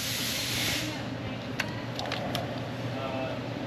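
Electrical contact cleaner sprayed into the corroded cam position sensor pigtail pins of a 400,000-mile Ford F250 with a 7.3 Power Stroke: a close, sharp aerosol hiss at the start, followed by a few light clicks.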